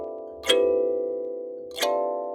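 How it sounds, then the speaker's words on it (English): Two bright African thumb piano glissandos from the upper samples, each a quick rush of plucked tines that rings on and slowly decays, played alone with no talk. "As you go higher up on the keyboard, the glissandos get gradually brighter in sound."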